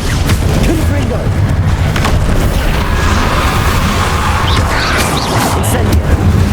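Confringo blast spell cast in Hogwarts Legacy, a loud, dense roar of explosive bursts and rumbling booms that fills the whole stretch without a break, layered with crackling debris and battle noise.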